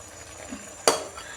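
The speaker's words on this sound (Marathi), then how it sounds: "घ्या हलवून व्यवस्थित मसाला सगळीकडे एकजीव झालं पाहिजे" Masala being stirred in a cooking pan: a soft scrape and a single sharp clink of a spoon against the metal, over a faint background hiss.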